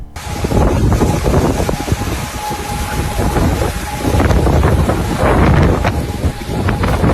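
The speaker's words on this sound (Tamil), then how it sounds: "வீட்டுக்கு பின்னாடி ஒரு ஆறே ஓடிக்கிட்டு இருக்கு" Loud, rushing broadband roar of floodwater flowing like a river behind a house, with heavy wind buffeting on the microphone, continuous and turbulent throughout.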